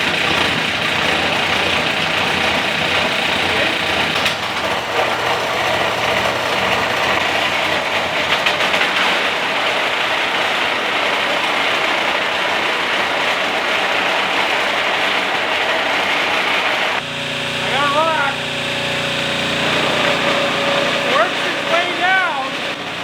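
A homemade automated rock crusher runs loudly with a dense, continuous mechanical roar and rattle, steady for a long stretch before the tone shifts to a harsher clatter with squealing rises near the end.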